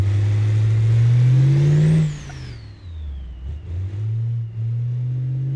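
Scintilla car engine in BeamNG heard from the cabin, running at about 15 psi of boost. It is loud and droning, with a rising rev for two seconds, then drops to a lower, uneven hum.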